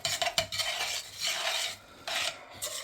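A spoon scrapes and swishes pasta around a pan to coat it in sauce, a few close rasping strokes with short pauses between, no talk.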